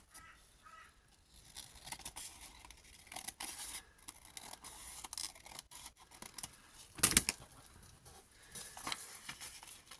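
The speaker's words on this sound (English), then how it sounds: "I'm going to cut this so it's got a straight edge" Scissors snip through a book page, giving short crisp cuts and paper rustles close by in a quiet room, with a few sharper scrapes and crinkles between the snips.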